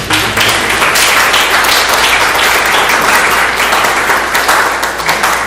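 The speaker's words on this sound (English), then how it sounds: "A round of applause for her." An audience applauds Laura Rudolph, a Leadership Owensboro class of 2024 graduate, with steady, loud, dense clapping that fills the room evenly throughout without any talk over it.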